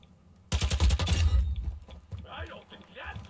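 A sudden loud burst of rapid automatic gunfire rips out in Call of Duty MW2 DMZ for about a second, then fades, followed by someone talking.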